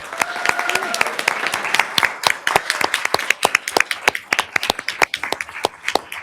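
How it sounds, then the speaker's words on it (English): An audience at a school board of education meeting breaks into applause, with many hands clapping densely and loudly, nearby and sustained for several seconds, with no talking over it. "Can we please give her a round of applause?"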